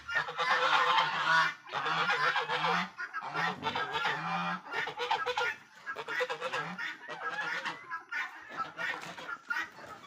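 Geese honking loudly in repeated bursts on a farm with turkeys and guinea fowl, several birds calling over one another with short pauses between.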